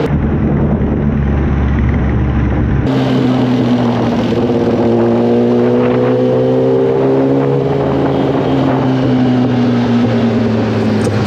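A motorcycle fitted with a Brocks full exhaust system revs on a highway, a loud, sustained engine roar with rising and falling pitch as it accelerates, alone with no voices.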